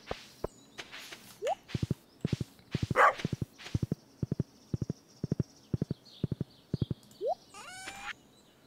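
Horse hooves clip-clop steadily in Stardew Valley, a farming video game, as a run of evenly spaced crisp hoofbeats with brief pauses between. Soft chimes and light game sounds play faintly behind them, and nobody speaks.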